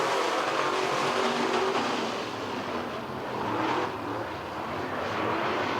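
Race cars roaring around a short-track speedway after the green flag, a loud continuous engine drone with a swell as the pack passes nearby, no talk over it.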